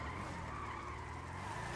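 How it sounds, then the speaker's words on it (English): Tires skid and squeal continuously as a car drifts through a 360 spin on a rainy road in GTA, a steady, fairly faint screech blended with engine noise. "360 drift, which is probably my favourite drift move to do."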